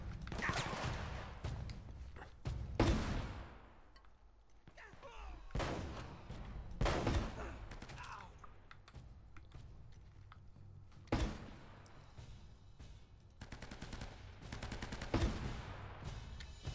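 Gunfire rings out in the video game Uncharted: Drake's Fortune, with sharp shots and short bursts scattered irregularly across the scene. The shots play at low level with quiet gaps between them.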